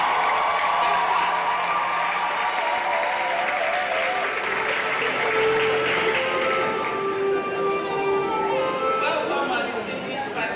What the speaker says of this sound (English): Clap with your hands everywhere.